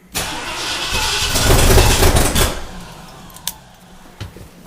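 An assembled engine with a carburetor cranks and tries to catch, a loud sustained churning roar for about two seconds that fades back, followed by a couple of short sharp knocks.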